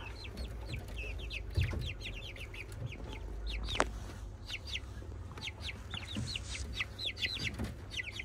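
Many high peeping Blue Porcelain Brahma chicks chirp rapidly and continuously, with occasional low clucks from hens nearby.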